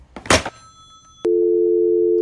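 A telephone dial tone comes on abruptly once the caller hangs up, a loud steady hum holding unbroken to the end, just after a brief clatter of the receiver.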